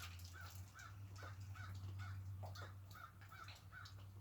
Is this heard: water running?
no